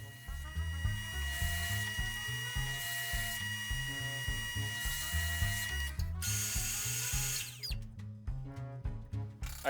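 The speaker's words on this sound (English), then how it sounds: "Back over to the drill press to hog out that excess material." A drill press bores into wood with a loud grinding whine, then repeated rough cutting bursts as the bit plunges in and out.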